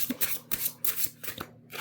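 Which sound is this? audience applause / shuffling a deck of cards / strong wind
shuffling a deck of cards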